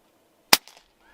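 A single sharp crack from an Air Arms S510XS .177 air rifle fired at power setting 4, close and brief, followed by a faint soft rattle.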